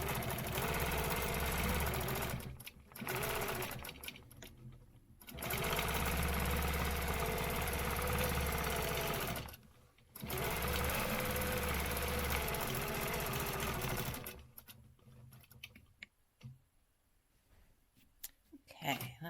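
A sewing machine stitching out a stencil design runs in long steady bursts with short pauses between them, a close, continuous motor hum and rapid needle chatter that stops near the end.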